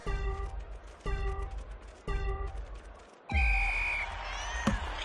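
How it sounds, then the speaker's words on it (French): Cat meows from the video game Clawball repeat in a quick rhythmic series of four, each a short bright cry over a layered musical backdrop, with the last one longer and louder. "vous aurez des bruits de chat"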